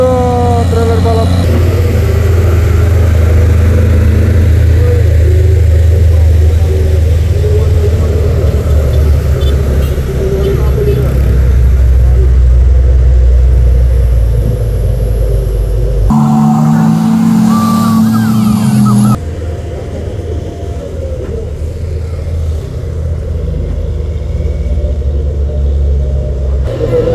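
Racing trailer trucks, a Fuso against a Hino, rev hard on a hill at Bukit Kodok, giving a loud sustained engine roar and rumble. The drone shifts in pitch midway, and voices talk over it.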